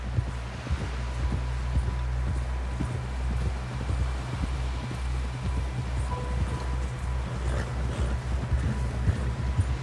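Hooves pound in a fast, steady rhythm, a horse galloping in Red Dead Redemption 2, with low rumbling noise underneath and no talking.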